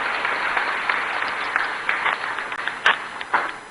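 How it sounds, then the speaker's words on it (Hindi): An audience claps at a ceremony in Bhopal, Madhya Pradesh, honoring state-school class 12 toppers, giving a steady, fairly loud burst of applause with individual claps standing out and no speech over it. "एक बार ताली बजा के अभिषेक का भी स्वागत करें सब"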